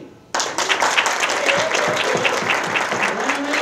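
An audience at a summer jobs program awards ceremony bursts into applause after a brief quiet moment. Dense clapping carries on steadily to the end, loud and filling the room.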